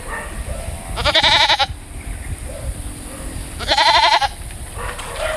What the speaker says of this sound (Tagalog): Mahal magandang kambing.